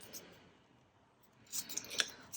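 Scissors snip through paper for a journal booklet, with a couple of crisp cuts near the end after a quiet stretch, close and moderately loud.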